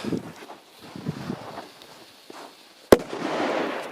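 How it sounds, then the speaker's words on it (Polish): A one-gram Colpo firecracker goes off in snow with a single sharp, loud bang near the end, after quiet outdoor wind noise and handling sounds. "A my teraz odpalimy sobie w śniegu petardkę kolpo."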